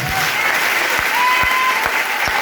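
A church congregation at a worship service applauds in a dense, loud burst of continuous clapping, with a few sharper claps standing out.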